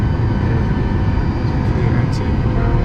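A steady, loud, even roar fills the cabin of a nearly empty Biman Bangladesh Airlines airliner in flight, continuous throughout with no breaks.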